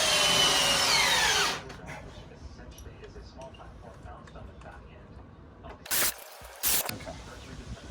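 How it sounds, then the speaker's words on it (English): A power drill drives bugle screws into timber for a retractable awning reinforcement, heard as a loud, sustained whine at the start that cuts off, followed by quiet background and two short bursts later. "And then we're just going to fix it with more bugle screws."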